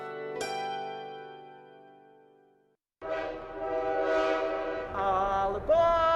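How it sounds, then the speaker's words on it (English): Leadville, Colorado and Southern Railroad train sounding a long sustained horn blast that fades out, followed after a brief gap by loud rumbling and rolling of the train with further horn tones near the end. "Relax to the rhythm of the train on the tracks."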